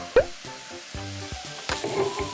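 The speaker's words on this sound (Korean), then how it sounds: "이제 고기 굽기 시작했습니다" Meat sizzles on a grill at a rainy campsite, a crackling frying hiss with scattered sharper pops and clatters close by, with no talking.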